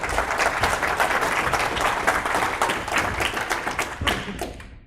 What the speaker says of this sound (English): Now you realize they're clapping